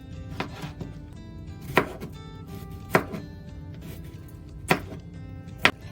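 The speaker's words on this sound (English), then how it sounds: "carrots are peeled, cut them into small pieces" A knife chops peeled carrots into small rounds on a cutting board, a few sharp, separate thunks spaced irregularly about a second apart, close and clear over quiet room tone.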